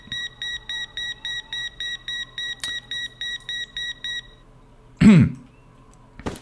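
A border-check scanner in the video game Border Officer gives a fast, regular run of electronic beeps, about a dozen evenly spaced tones. It stops, and then a loud cough or throat-clearing bursts in close by.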